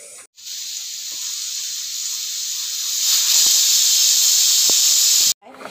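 A pressure cooker cooking chicken curry vents steam in a loud, steady hiss that grows stronger partway through and then cuts off abruptly, with faint clicks underneath.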